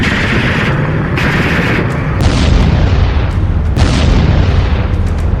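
Heavy booming blasts from a missile attack on Donetsk in wartime roll over a dense, roaring rumble. Several loud bursts land at irregular intervals, with no voices.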